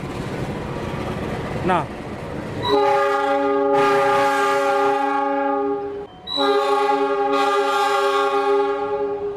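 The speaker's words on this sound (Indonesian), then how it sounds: "itu dia lokomotif sekarang lepas stasiun Bogor Paledang dan masuk stasiun Bogor Utama" A locomotive pulls away from Bogor Paledang station, sounding a long, loud multi-tone horn twice with a short gap between, after rumbling rail noise and someone talking nearby.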